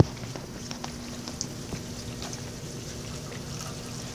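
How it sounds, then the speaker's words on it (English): Steady, continuous rush of falling water from a waterfall, a broad even wash with a faint low hum underneath and no talking. "It's a waterfall."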